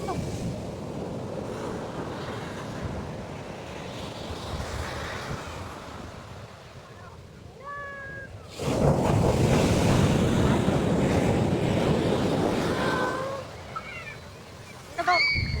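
Ocean waves break and wash on the shore at Kaanapali Beach, Maui, a steady roaring surf that swells louder midway, mixed with wind buffeting the microphone and brief voices.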